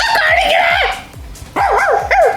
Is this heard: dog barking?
yes